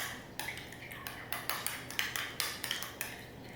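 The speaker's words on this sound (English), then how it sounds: "Going to give this a stir." A spoon stirs a homemade secret burger sauce in a bowl, with a steady run of light, close clinks against the bowl and no talking.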